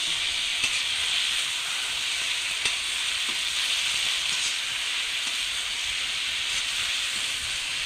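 Eggplant frying with neem leaves in a pan while being stirred gives a steady, close, bright sizzle and hiss. Faint stirring scrapes rise and fall, with no talking.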